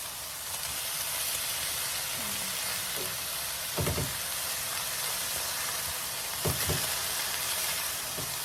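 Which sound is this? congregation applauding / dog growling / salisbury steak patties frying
salisbury steak patties frying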